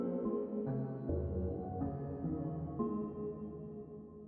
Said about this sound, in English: It's kind of like a music box or a kalimba,